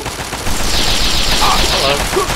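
Sustained gunfire from the Fallout 3 video game, a loud continuous fusillade of rapid shots lasting the whole moment, with a faint voice mixed in.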